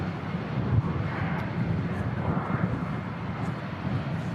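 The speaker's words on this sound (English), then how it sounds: "That EasyJet on the way out to Geneva." An EasyJet airliner taking off at Manchester Airport in strong crosswinds gives a steady, distant jet roar with a low rumble and a wash of wind noise.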